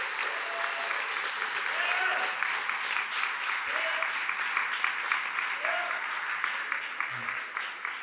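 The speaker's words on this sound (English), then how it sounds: "let's give a round of applause to these amazing charities who make a difference in our community" An audience at a corporate community gift announcement claps for local charities. The dense, even wash of many hands lasts about eight seconds, with faint voices underneath.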